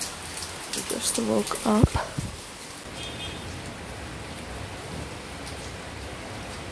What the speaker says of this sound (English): it is raining so badly